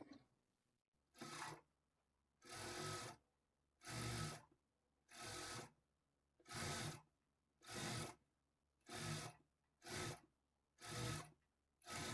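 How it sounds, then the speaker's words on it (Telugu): A sewing machine stitches piping onto lining fabric in nine or ten short, even bursts of whirring, with brief pauses between them. It is fairly quiet and nearby, with no talk. "ఇప్పుడు ఇదే స్టిచ్ మీద స్టిచ్ చేసుకోవాలి"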